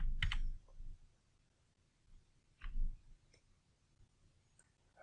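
A few sharp, separate clicks from a computer keyboard as a shortcut key is pressed in CAD modelling software, spaced out in an otherwise quiet room.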